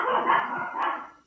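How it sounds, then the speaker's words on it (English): Dogs barking indoors in the background of a home math lesson, a muffled bark or two blurring into a continuous rough burst over about a second. "sorry about my dogs"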